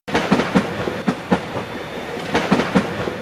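A train runs on rails with a rhythmic clickety-clack of wheels over joints, clicks arriving in pairs over a steady rolling rumble, close and fairly loud.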